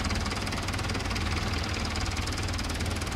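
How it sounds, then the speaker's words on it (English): Vintage tractor engine running steadily at a harvest field with an old reaper binder, a continuous rough knocking chug with dense low rumble, fairly loud and unbroken, no talk. "you've got these lovely old tractors and this lovely machinery"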